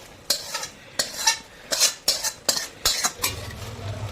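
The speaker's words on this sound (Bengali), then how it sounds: "এই যে পুরো সব দিয়ে মিশিয়ে দিচ্ছি" Bottle gourd and spinach are stirred in a pan with fish oil, a spatula scraping and knocking against the metal in about eight sharp, irregular strokes, with a faint sizzle underneath and no talking.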